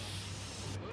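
A continuous hiss of kids' spray sunscreen from an aerosol can, applied heavily at close range, sustained for nearly the whole moment before cutting off abruptly at the end.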